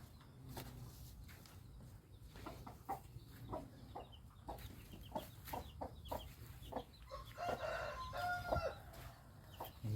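Rooster crowing and hens clucking on a Thai cattle farm after rain, several calls spread across the scene at moderate distance over steady background noise.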